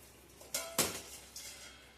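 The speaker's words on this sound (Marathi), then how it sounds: "टो टोपल्यातलं झाकण काढ" A metal lid lifted off a cooking pot in a home kitchen, giving a couple of close, sharp clanks and clinks with short metallic ringing, separated by brief quiet gaps.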